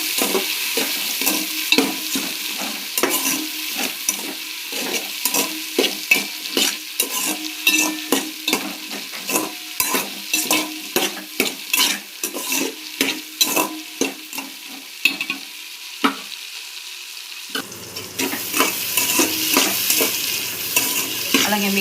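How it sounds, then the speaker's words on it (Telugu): Carrots and potatoes frying for vegetable biryani make a loud constant sizzle, with rapid repeated stirring scrapes and clinks of a spoon against the pan throughout. "ఇంకొంచెం కలర్ మారే వరకు వేయించుకుందాం."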